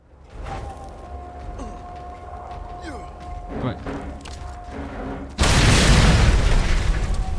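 Game sounds from Mad Max rumble under low background noise, then a sudden loud explosive burst erupts during a camp attack and continues as a dense roar.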